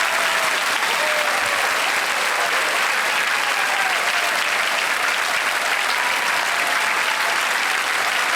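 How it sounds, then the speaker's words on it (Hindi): Studio audience on the game show KBC claps loudly and continuously, a dense, even wall of applause filling the room, close and sustained without pause or speech. "ताली बज जाए जोर से उनके लिए"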